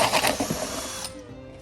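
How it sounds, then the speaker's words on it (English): A power drill fitted with a 16mm bit bores a hole through a plastic wormery box to take a tap, giving a close, steady whirring grind that cuts off abruptly near the end. "use a 16mm drill bit to make a hole for the tap"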